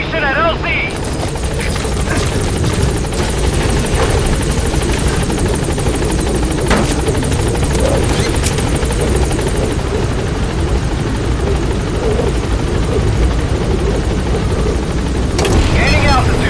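A support helicopter hovers at a landing zone in Metal Gear Solid V, its rotor thudding loudly and steadily throughout, with voices talking over the drone.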